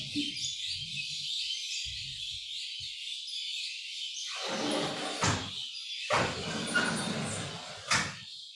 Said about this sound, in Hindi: बहुत आवाज आ रहा है पक्षियों का